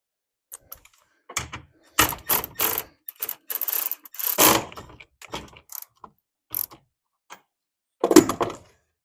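A cordless ratchet tightens tonneau cover clamps in short, close bursts of whirring and clicking, each lasting under a second, with brief silent gaps between them.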